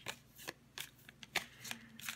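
Tarot cards shuffled by hand, a quick series of crisp riffling bursts at a steady rhythm, close and clear with no talk.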